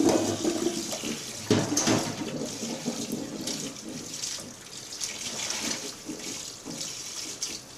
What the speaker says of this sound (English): Rinse the vegetables at least twice.